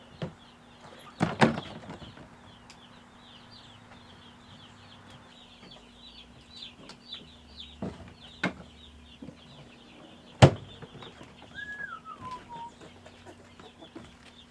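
One-week-old chicks on pasture cheep continuously and faintly in the background, with a few louder knocks and bumps breaking through and a brief clearer peep later on.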